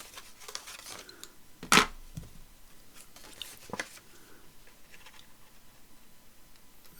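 Paper being cut out for a journal gives quiet, close snips and rustles, with one sharp crinkling burst and scattered lighter cuts afterwards.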